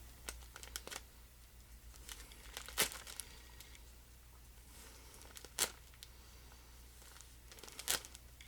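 Packaging being cut open with a blade during an unboxing, with soft scraping and crinkling throughout and a few sharper isolated snaps and rips, close and fairly quiet.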